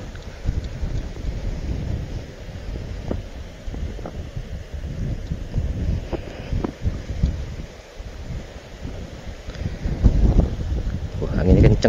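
Strong wind gusting over a sand hill, a continuous rough roar buffeting the microphone and rising and falling in strength, with people talking over it.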